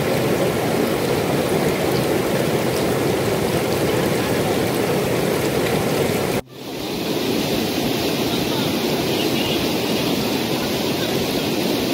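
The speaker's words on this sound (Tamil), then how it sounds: "சிறுமுகை புளியம்பட்டி ரோட்டில் மழைநீர் பெருக்கெடுத்து ஓடியது." Heavy rainwater floods across the Sirumugai–Puliyampatti road during an exceptional downpour, a loud, continuous broadband roar of rushing water that drops out for an instant midway before resuming at full strength, with no talking.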